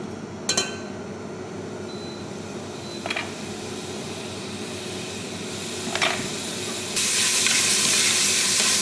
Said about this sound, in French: Donc je vais faire suer mes oignons avec un peu d'huile d'olive.